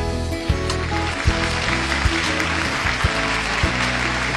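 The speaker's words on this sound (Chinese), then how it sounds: "掌声有请今天请来的嘉宾登场。" Studio audience applause greeting a guest on a Chinese television relationship show, a dense, steady clapping backed by music with a regular thumping beat.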